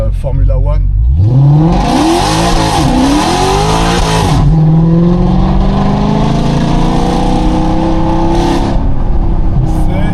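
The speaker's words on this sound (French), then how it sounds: "je vais te faire un petit départ Formula One." A sports car in Monaco revs hard and launches in a Formula One-style start, the engine note climbing sharply through rising gears with a loud roar and tire noise, close by.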